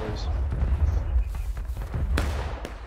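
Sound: musket volley fired in the video game War of Rights

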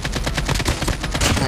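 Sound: gunshots in video game Call of Duty Mobile

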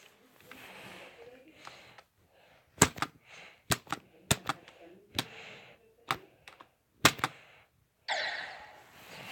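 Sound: typing on a computer keyboard

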